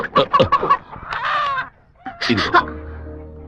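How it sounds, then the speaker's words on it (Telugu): Chicken clucking in a movie scene, a run of sharp, close squawks and clucks in quick bursts, with another loud squawk after a short pause. "అయ్యగారు పైన ఉన్నారు, కోడిని చూసి పట్టుకో"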